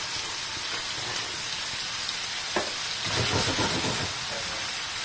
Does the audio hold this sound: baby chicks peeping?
no